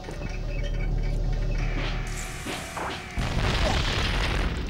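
LEGO objects smashing apart and bursting into scattered studs in LEGO Star Wars: The Video Game, with a heavy booming crash, clattering debris and a steady game hum beneath, growing louder toward the end.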